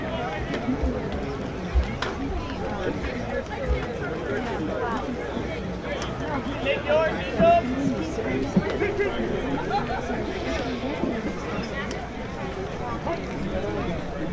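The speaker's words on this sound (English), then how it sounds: "Crowd still filling in here at Red Wilson Field. People taking their seats." Steady murmur of a crowd filling in and settling into seats at Red Wilson Field during a Cape League baseball game, a continuous babble of many voices with occasional nearby shouts.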